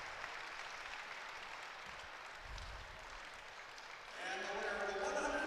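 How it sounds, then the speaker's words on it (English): College wrestling dual between Lock Haven and Wisconsin in a field house: a crowd murmurs, then bursts into loud applause and cheering near the end, with a commentator talking over it. "Crowd getting loud here in the field house."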